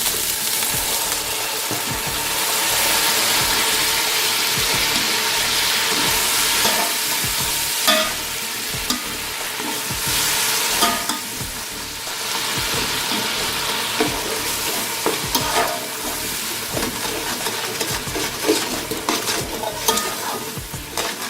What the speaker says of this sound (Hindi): तो तकरीबन 1 मिनट के लिए हम इसको ऐसे ही भूनेंगे